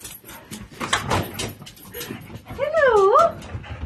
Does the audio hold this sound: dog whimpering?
yes